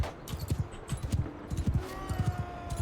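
A horse gallops in Mount & Blade 2: Bannerlord, its hooves drumming in a steady repeated rhythm at moderate, fairly quiet level against faint game ambience.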